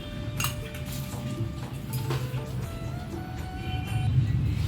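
Whole spices (bay leaf, coriander, dried chillies, cumin and garam masala) dry-roast in a dry wok, rattling and scraping steadily against the metal under continuous stirring, close and fairly loud.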